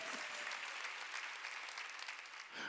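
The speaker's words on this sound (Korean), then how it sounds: "박수야" A church congregation claps together at a Wednesday worship service, sustained steady applause that fills the room and then breaks off abruptly near the end.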